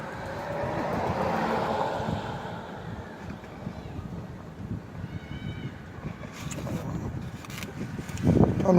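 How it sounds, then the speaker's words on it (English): Gusting wind on a warm day in Miami buffets the microphone in a steady low roar, swelling toward the end, with faint sounds of someone nearby. "I don't know if you can hear it, but it's kind of windy day today."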